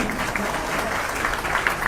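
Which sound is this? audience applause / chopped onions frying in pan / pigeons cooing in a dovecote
audience applause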